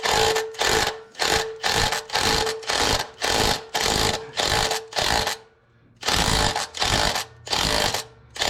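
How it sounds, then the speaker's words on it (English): An electric wrench loosens the oil filter housing on a 2017 Lexus RX350, sounding in loud, even bursts of buzzing rattle about half a second each, with one longer pause partway through. "I'm definitely glad I brought my electric wrench"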